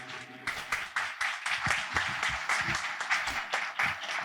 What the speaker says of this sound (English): Keep the applause going there for O'Dane and the Queen's Class Dancers